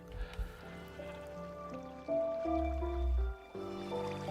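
Minecraft water source being placed, soft liquid splashing and flowing sounds, quiet and close, layered over gentle background game music.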